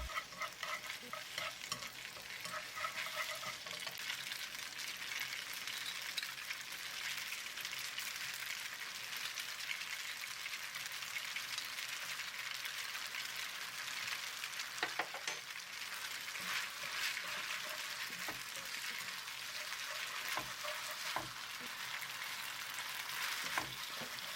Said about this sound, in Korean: 당면을 볶다가 마늘 한 큰술을 넣고 진간장 세 큰술, 설탕 한 큰술도 넣고 볶아주세요.